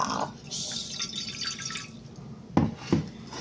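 Water is poured into a Pyrex baking dish in a home kitchen, a brief splash followed by two sharp splashing hits close by.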